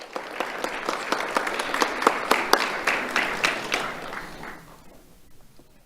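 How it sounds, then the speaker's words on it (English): A modest audience at a school awards ceremony claps for a student honoree, sharp individual claps distinctly audible in a thin, fairly near round that builds, then fades out over the last second. "Let's have a round of applause for Lucia Pedro Nicholas."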